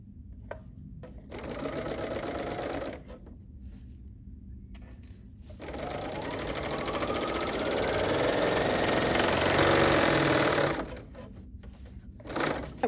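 A BERNINA L 850 overlocker sews a 3-thread overcast stitch, a steady fast mechanical whirring hum running in two long bursts with short pauses between, close and loud.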